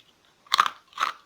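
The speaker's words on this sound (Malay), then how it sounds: "Dia kerepak-kerepuk memang sedap." Two sharp, close crunches come from biting into crispy fried mee siput noodles, separated by a short pause in otherwise quiet surroundings.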